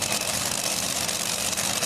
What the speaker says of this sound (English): Good running Chrysler Hemi here, 526 cubic inch, 1471 supercharger. Running VP methanol.